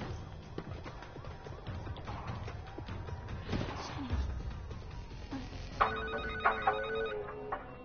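A phone rings in the video game Infamous First Light, its electronic ringtone pulsing several times near the end over a busy backdrop of game thuds and mechanical noise.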